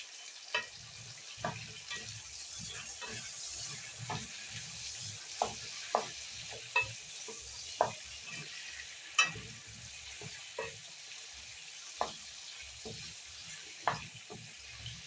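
Onion potatoes frying in a skillet with a soft steady sizzle, punctuated every second or so by sharp scrapes and knocks of a utensil stirring them, fairly close and quiet, with no talk.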